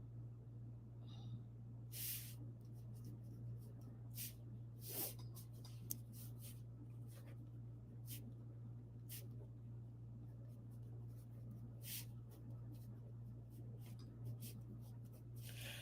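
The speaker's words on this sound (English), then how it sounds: "let me write this down." A pen scratches across paper in short strokes and bursts, close but faint over a constant low electrical hum, with brief pauses between marks.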